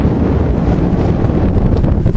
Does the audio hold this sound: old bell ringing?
no